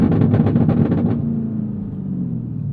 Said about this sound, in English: the key to get the exhaust to pop is when you let go of the accelerator